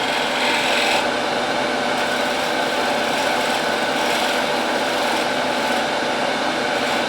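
A bowl gouge cuts a wooden Christmas ornament spinning on a lathe, giving a continuous close, loud rasping scrape that shifts slightly in tone as the tool moves, with no talk.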